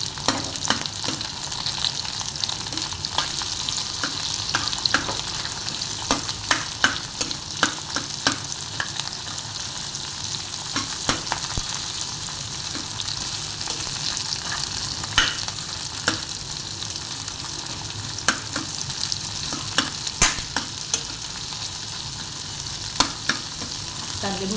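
Garlic, green chili and lengthwise-sliced onions frying in a pan, a steady loud sizzle for the whole stretch with frequent stirring scrapes and clicks, no voices.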